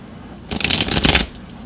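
Tarot cards are shuffled close by in one quick riffling burst of about a second of crisp, flapping paper clatter, then quiet.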